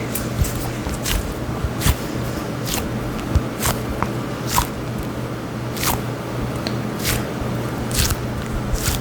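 A NeeDoh squishy fidget toy squeezed repeatedly, giving sharp wet squelching clicks at a roughly even pace over a soft background hiss, close and fairly loud with no talking.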